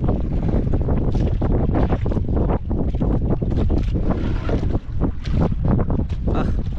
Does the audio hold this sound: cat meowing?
no